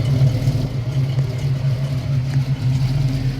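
A 1971 Ford Gran Torino GT's 351 Cleveland V8 rumbles steadily at idle with a deep, throaty burble through Flowmaster mufflers, close and loud, with no talking.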